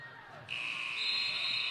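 An end-of-quarter buzzer sounds at a women's college basketball game between Thiel and Geneva, a loud, steady electronic tone that starts partway through and holds to the end over faint gym noise.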